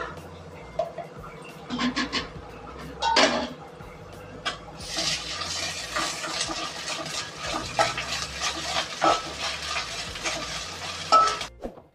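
Onions frying with ginger garlic paste in a pan for a Godavari crab curry, a steady sizzle with intermittent stirring scrapes and clatter, louder in the second half.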